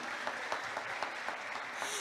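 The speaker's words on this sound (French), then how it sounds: "Je vous demande de l'applaudir." A talk-show audience applauds a former pageant runner-up of Miss BPX. The clapping is faint and fairly distant, a soft steady patter of many hands that runs only a couple of seconds.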